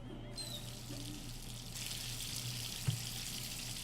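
Bath tap running to fill a tub with water in the video game Life is Strange 2, a steady, fairly quiet hiss of pouring water that holds for about four seconds, brightening partway through.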